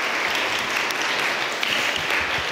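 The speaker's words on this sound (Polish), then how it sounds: "jeszcze raz duże brawa" Audience at a medical and dental diploma graduation ceremony applauding, steady dense clapping throughout, evenly sustained with no pauses.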